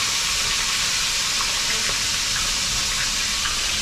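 Steady, close crackling hiss of food frying in hot oil, with a few faint clinks in the background and no voices.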